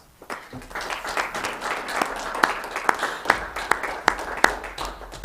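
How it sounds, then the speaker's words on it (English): An audience at a county commission meeting applauds, a crowd of scattered claps building into steady clapping with a few sharp, louder claps standing out near the front. "let's give Christy a round of applause"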